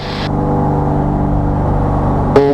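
An aerobatic airplane engine runs at full throttle in a climb, a loud steady drone with a sharp burst near the end, heard from inside the cockpit without talk.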